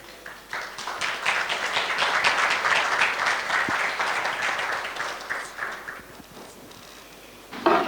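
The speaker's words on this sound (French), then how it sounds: "soyez le bienvenu sous vos applaudissements, s'il vous plaît" A conference audience at an opening ceremony welcomes a speaker with loud, dense applause that swells quickly, holds for several seconds, then thins out toward the end.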